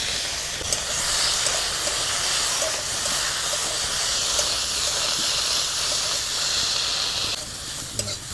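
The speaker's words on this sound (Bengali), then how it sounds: "এবারে চিংড়ি মাছগুলো ভেজে নেব।" Shrimp coated in turmeric fry in hot oil, producing a loud, dense hiss of sizzling that stays steady and close throughout with small crackles and pops.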